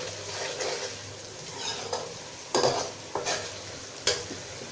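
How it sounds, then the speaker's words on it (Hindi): Onions and spices stirred in a pan over medium heat for Lahori chickpea curry, a low steady sizzle under several sharp scraping strokes of a spoon against the pan, spaced irregularly and close by, with no voices. "अब हम इन सारी चीज़ों को अच्छी तरह से मिक्स कर लेंगे मीडियम आंच पर।"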